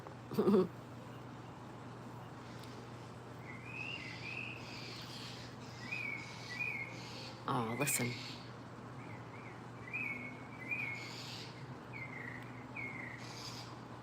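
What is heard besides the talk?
bird calling outdoors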